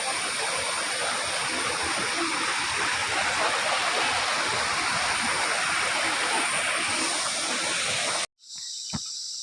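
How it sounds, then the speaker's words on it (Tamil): Small waterfalls in the Pothigai hills pour steadily as a loud, close, broadband rush of water. Insects buzz faintly beneath it. The roar runs unbroken for about eight seconds, then cuts off abruptly into near silence with a brief thump. "சின்ன சின்ன ஃபால்ஸ் இதெல்லாம்."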